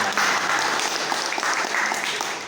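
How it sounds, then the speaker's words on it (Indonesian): Audience applause at a coaching training session in a school hall, many people clapping steadily and fairly loud for a couple of seconds, with a faint voice underneath. "sudah tepuk tangan dulu Pak"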